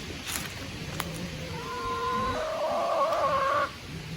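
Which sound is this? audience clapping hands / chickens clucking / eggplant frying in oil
chickens clucking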